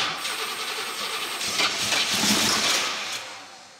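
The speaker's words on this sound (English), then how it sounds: "Those are bad sounds. That's like flex plate, like grinding bad sounds." An abandoned Camaro IROC Z, sitting for 27 years and primed with starting fluid, cranks with a harsh grinding noise from a faulty flex plate. It is loud and close, swells midway, then cuts off abruptly.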